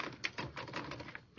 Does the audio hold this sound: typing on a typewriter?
yes